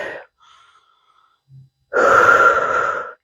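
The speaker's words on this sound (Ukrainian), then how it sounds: "Тут робимо дих-видих." A single deep breath in and out during a bodyweight strength workout: a short, quiet inhale followed by a louder, breathy exhale, close to the mic.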